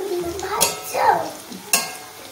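Chow mein frying in a pan, with a soft sizzle under scraping stirring strokes and a couple of sharp metallic clanks of the utensil against the pan, close up.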